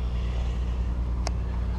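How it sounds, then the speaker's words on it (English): Cars rush past on a road above a creek, heard from below as a continuous low traffic rumble with a faint whoosh and no speech. "You can hear the cars whizzing by over top of the creek."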